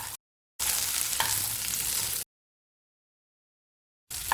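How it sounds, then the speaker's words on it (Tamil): Eggplant pieces sautéing in plenty of oil, a steady broadband sizzle with stirring scrapes, heard in two bursts with silence between and a short return at the end. "கொஞ்சம் எண்ணெய் அதிகமாகவே சேர்த்து வதக்கிக்கோங்க"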